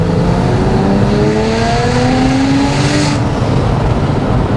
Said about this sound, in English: the exhaust sound is the most prominent.